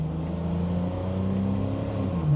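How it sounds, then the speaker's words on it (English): A 1972 Mercedes 250C with a 2.8-litre single-overhead-cam straight-six pulls under acceleration through its 4-speed automatic, a steady, close engine drone that holds a smooth, even note from inside the car. "We'll give it some accelerator."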